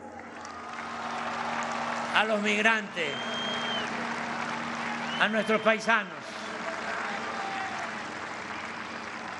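Applause from a large crowd at a Mexico City government address, a broad wash of clapping under a speaker's amplified voice that swells briefly between phrases.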